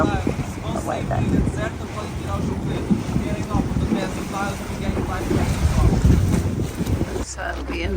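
A boat ride on the water at Faro, Portugal, with steady engine drone, water wash and heavy wind buffeting the microphone, continuous and fairly loud, easing off sharply near the end.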